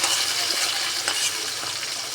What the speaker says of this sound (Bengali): এখন সেই বাগার দেওয়া রসুন আর পেঁয়াজ সব কিছু দিয়ে